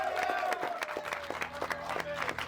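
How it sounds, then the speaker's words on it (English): A lively crowd applauds at a night out, with scattered, uneven claps over a low murmur of voices, moderately close. "So round of applause"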